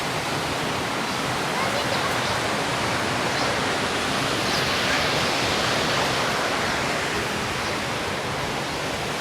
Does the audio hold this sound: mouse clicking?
no